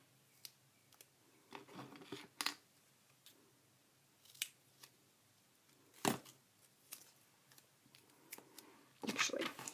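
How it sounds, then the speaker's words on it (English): Scissors snip washi tape into a small banner point for planner decorating, giving a run of crisp, close cuts in uneven bursts, with quieter rustles between them and a denser flurry of snips at the end. "I'm just going to cut that into a little banner"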